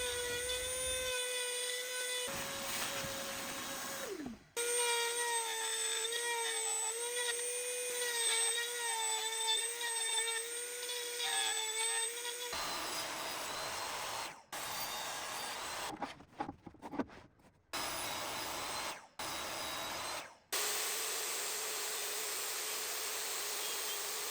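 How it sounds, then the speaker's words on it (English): A high-pitched Dremel rotary tool whines steadily while carving into wood, cutting out and restarting several times in short bursts. "I'm on my Dremel here. I'm going to start carving out"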